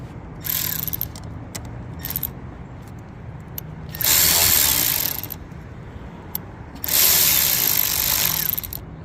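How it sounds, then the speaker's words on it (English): A ratchet loosens an 8mm clamp bolt on a Chevy air box, giving several short bursts of rapid clicking with a longer pair of runs, close and clear with no talking. "I'm going to take loose this clamp here. This clamp bolt is a 8mm."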